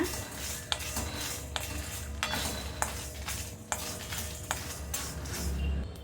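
Whole spices dry-roast over medium heat in a pan for a Chettinad-style baby corn dish, stirred with a spoon that scrapes and clicks about every half-second to second over a faint, constant sizzle.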